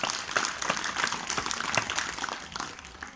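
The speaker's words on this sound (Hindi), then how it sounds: "तो जोरदार ताली आप लोग अपने लिए" Audience at a religious discourse in a village pandal clapping together, a dense crackle of many hands that holds steady for the whole stretch at moderate loudness.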